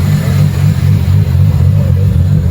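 A Nissan Skyline's engine rumbles and revs loudly at a drift and drag night, a steady deep drone holding throughout the short stretch with no talking.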